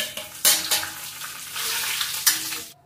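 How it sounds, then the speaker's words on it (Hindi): Cumin seeds, curry leaves, cinnamon, black cardamom, cloves and black peppercorns sizzle in hot oil in a kitchen pan, a close, steady hiss broken by sharp clinks and scrapes from stirring. "इसमें डालेंगे जीरा और खड़े मसाले जो हमेशा यूज करती हूँ"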